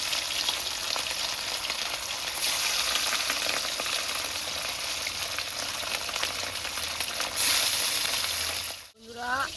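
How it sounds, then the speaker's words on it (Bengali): Pieces of rohu fish sizzle in hot oil in a wok, a dense, loud crackle that runs unbroken, with a brief clatter near the end and no talking. "আবার মাছ ছেড়ে দিই কটা কড়াইয়ে।"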